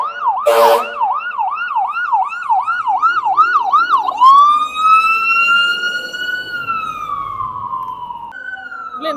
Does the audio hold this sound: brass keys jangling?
no